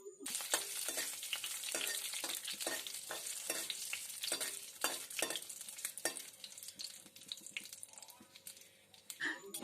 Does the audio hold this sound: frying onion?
yes